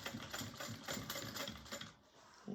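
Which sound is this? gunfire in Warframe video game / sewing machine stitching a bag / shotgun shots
sewing machine stitching a bag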